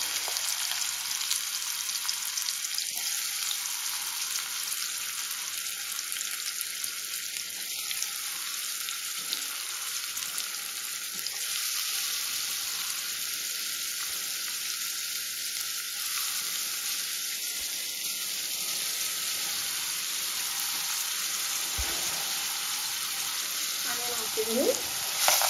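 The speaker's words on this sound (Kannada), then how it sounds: "ಆನಿಯನ್ ಫ್ರೈ ಆಗ್ತಾ ಇದೆ" Onions frying in hot oil in a pan, a loud, steady close hiss of sizzling that holds without a break, with a few faint stirring knocks and no talk.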